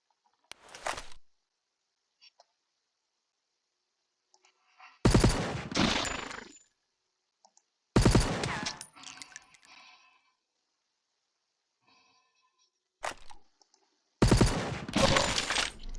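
Weapons firing at short range in the sci-fi game StellarTactics: four separate close bursts of rattling gunfire, each about a second long with short tails, divided by near silence.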